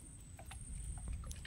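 A fishing boat glides through floodwater into a Sundarbans forest, heard as faint low rumbling with soft scattered splashes and knocks, quiet and close, with no voices.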